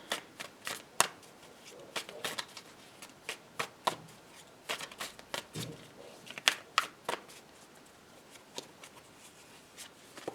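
A tarot deck being shuffled nearby, giving a steady series of sharp card slaps and riffles spread across several seconds, with no talking.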